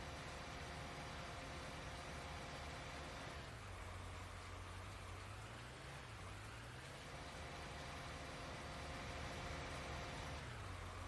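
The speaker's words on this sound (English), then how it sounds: "Seems like this tractor's kind of struggling." Struggling tractor engine in Farming Simulator 19, a steady low droning hum that sags and rises in pitch as the load strains it, fairly quiet and continuous with no talking.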